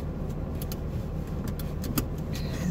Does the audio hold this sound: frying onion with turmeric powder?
no